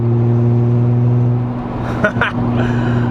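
A car engine idles steadily and loudly up close in Germany, a low even hum with brief bursts of noise partway through.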